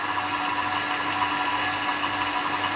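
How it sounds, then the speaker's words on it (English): A vacuum pump evacuates air from a chamber holding a ringing alarm clock, producing a constant loud mechanical hum and hiss with no breaks. "I let the pump suck because the most of air is sucked out quite fast"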